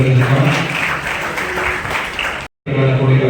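An audience claps at a ceremony, producing dense, loud applause that stops abruptly for a brief gap and then resumes.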